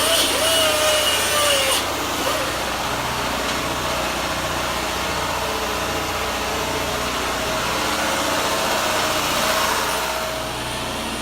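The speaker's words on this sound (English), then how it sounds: "And we're cutting grooves out of this wood." A power saw steadily cutting grooves into wood for a frame, a continuous loud grinding rasp that runs unbroken from start to finish, close to the listener with no talking.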